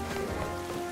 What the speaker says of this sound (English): I like the rain. The rain effect's kind of nice.